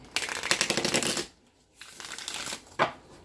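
Tarot cards are riffled and shuffled in close, crisp bursts, with a short pause between flurries and a final snap.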